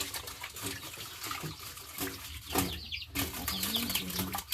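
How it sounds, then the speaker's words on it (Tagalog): Cassava roots being washed by hand in water, with continuous splashing and sloshing, bursts of stirring and rubbing, and a few faint bird calls nearby. "Subong hugasan natin ang mga balinghoy na ito natin"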